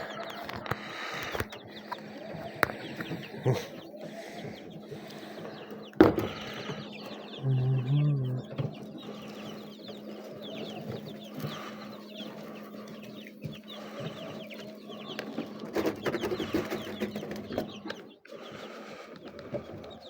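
Young Brahma chicks cluck and peep while being fed, scattered soft calls over a low steady hum, with occasional bumps and handling noises nearby.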